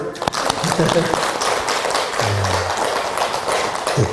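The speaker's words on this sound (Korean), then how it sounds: "박수도 쳐요" A temple gathering at Gwangseongsa claps for the Dalai Lama's birthday celebration, a dense steady wash of applause lasting throughout, with a voice briefly heard over it midway.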